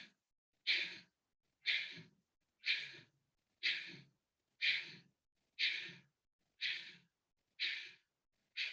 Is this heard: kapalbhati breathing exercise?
yes